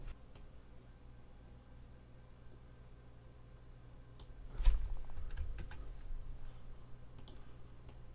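Light keyboard typing while adding text in Photoshop CS5: soft, quiet clicks that build into a louder flurry of keystrokes midway, then settle into scattered taps over faint room hiss.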